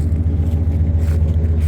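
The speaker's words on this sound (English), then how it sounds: "that exhaust makes it sound like something's wrong with it whenever it's really not" A cheap old pickup truck idling with a loud, rough exhaust that sounds faulty though the engine runs well, a steady low rumble held close and constant throughout, with no talking.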